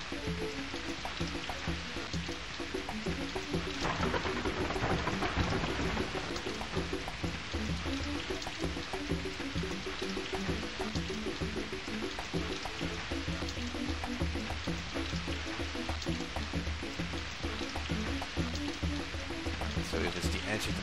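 Steady rain falls throughout the video game Lion, a constant broadband hiss of drops that holds at an even level under quiet background game sounds.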